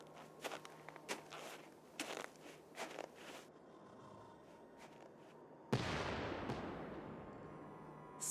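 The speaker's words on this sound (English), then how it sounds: "Sounded like an explosion." A sudden loud blast of wide noise in a Nancy Drew game, The White Wolf of Icicle Creek, suggests an explosion that sets off a snow burial. The blast breaks in after sparse footsteps and taps, then a long roar fades.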